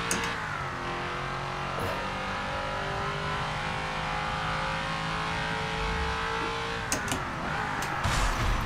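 A race car engine in Forza Motorsport 7 holds a loud, sustained drone at high revs, then briefly dips and climbs again near the end with a few sharp clicks and a tire squeal.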